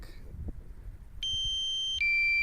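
After some faint background noise, a DJI Mavic Pro low-battery warning tone sounds steadily, then shifts to a second pitch, loud and close.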